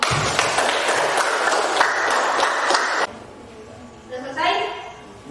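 Classroom group applauding together, steady dense clapping for about three seconds that stops abruptly, followed by quieter room sound and a voice.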